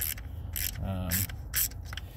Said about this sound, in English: So I'm going to start by taking these bolts loose.